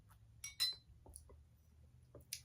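Glasses of cran apple juice clink together in a toast, several sharp bright taps in quick succession at close range, then a few softer knocks and a final clink in a quiet room.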